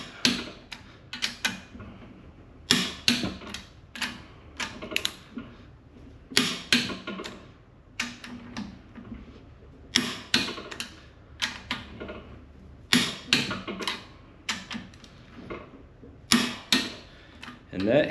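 Torque wrench clicking as the cylinder head bolts are tightened on a brand-new Subaru EJ257 long block for a 2006 STI, a run of sharp, close clicks and ratchet taps in uneven bursts, with no talk.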